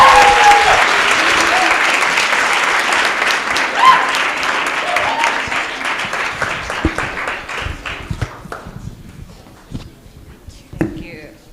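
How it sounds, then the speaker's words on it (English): A panel audience at a church service applauds, dense clapping at first that thins and fades over about ten seconds, with scattered last claps and faint voices near the end. "we can give them a round of applause"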